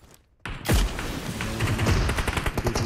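Shotgun fire in the PUBG Mobile video game: a quiet pause, then a heavy blast followed by a rapid string of close, sharp shots and thuds mixed with other in-game gunfire.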